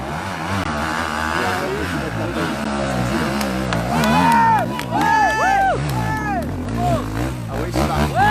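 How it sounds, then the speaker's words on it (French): An enduro motorcycle at a GP enduro final in Ambert, France revs hard and climbs in pitch as it jumps, with a rising and falling engine whine over cheering spectators and people talking nearby. "Voilà, le saut sur la moto."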